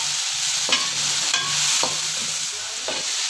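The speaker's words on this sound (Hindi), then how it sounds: "प्याज हमने काट लिए हुए हैं, तो इसी ऑयल में हम ये प्याज डाल देंगे।" Chopped onions fry in hot oil with a strong, continuous sizzle. Several short scraping stirs come at intervals over it.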